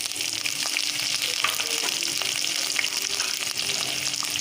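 Chopped onion frying with chilli and cardamom in a pan for vegetable pulao: a dense, steady, close sizzle with faint crackles throughout, no talking.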